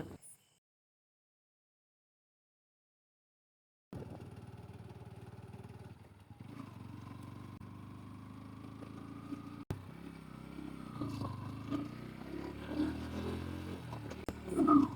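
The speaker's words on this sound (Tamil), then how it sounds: "ஏற்காட்டில் கூட இந்த அளவுக்கு வண்டி திணறினதில்லை" A motorcycle strains up a steep hill road on the Jarugu hills near Salem, its engine laboring steadily close by after a few seconds of silence, the pitch rising and roaring louder toward the end.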